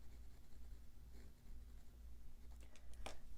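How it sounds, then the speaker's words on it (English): A pencil lightly sketches guidelines on fabric for a crazy quilt block, making faint, soft scratchy strokes in a quiet room with a low background hum. "So I'll just lightly sketch my guidelines here."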